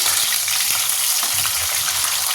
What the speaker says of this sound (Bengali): এখানে আবার আলু ভাজা বসিয়েছি।